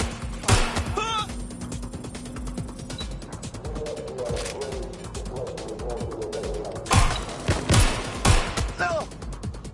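Enemy gunfire in Watch Dogs Legion, with sharp shots clustered near the start and again in bursts toward the end, mixed with mechanical game clatter and voices talking through it.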